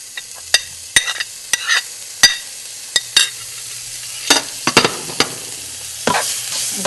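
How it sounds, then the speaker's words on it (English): Fresh ginger and green chilies sauté in a hot pan, with a soft steady sizzle beneath a series of sharp, irregular clicks and scrapes from stirring, close and fairly loud with no talking. "Now we're going to add the chili, the ginger and the chili."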